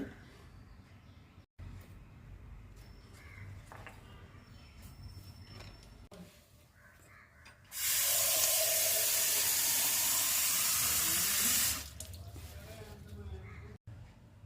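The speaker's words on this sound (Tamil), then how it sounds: "இப்போ தண்ணி ஊற்ற வேண்டிய செடிகளுக்கு தண்ணி ஊற்றிடலாம்" Water gushes steadily from a hose or spout onto potted plants for about four seconds in the middle, a loud close hiss that starts and stops abruptly, with quieter household sounds and faint talk around it.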